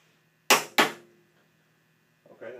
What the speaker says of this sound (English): So I'm going to push down on it until it clicks 3 times just to exercise the springs, okay?